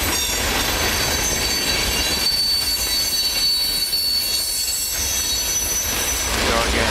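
A WNY&PA freight train hauling empty tank cars rolls past in Salamanca, New York, with loud, continuous wheel squeal and rumbling clatter and no voices.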